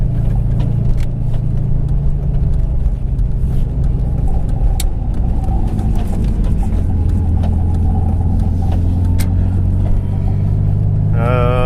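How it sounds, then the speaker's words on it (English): A modified project car's engine idles steadily with its altered exhaust, a loud, deep continuous rumble close by with slight revving swells and no talk over it. "Engine is warmed up for real this time"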